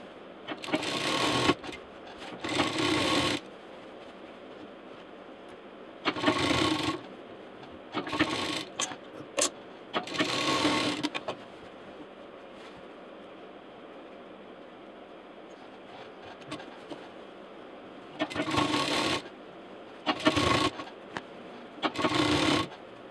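A sewing machine stitching fabric and frill piping for a toaster cover, its motor whirring in several separate bursts of one to three seconds, quiet and close, with short pauses and a soft click between runs.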